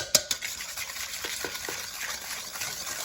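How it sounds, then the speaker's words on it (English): Eggs and sugar being whisked for pizzelle batter, light scraping taps of a whisk against a bowl, soft and fairly steady after a couple of sharper clinks at the start. "and we are going to whisk them."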